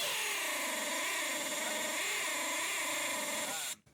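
A unibit step drill bit bores through the stainless steel of a beer keg with a steady, loud high-pitched whine and grinding tone that wavers slightly, running alone for nearly four seconds before cutting off abruptly.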